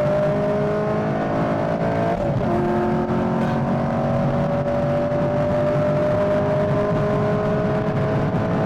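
A 6th-generation Camaro pulls hard in second gear, its engine note rising steadily and close with a sustained droning roar and no gear change, steady road noise underneath.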